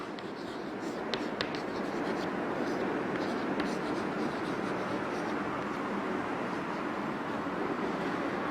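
A marker or chalk writes a statement on a board during a maths lesson on linear inequalities, a continuous close scratchy stroking with brief taps and pauses between strokes and no talk.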